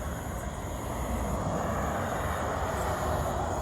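A Loram rail grinder train approaches from far away as a steady, low, broadband rumble and roar, faint and continuous, with no talking.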